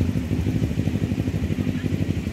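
A rented motorbike rides through Jakarta, its engine giving a close, loud, rhythmic low putter with a steady pulsing beat, alone with no talk.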